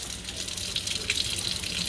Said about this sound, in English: let the running water work its way down the root system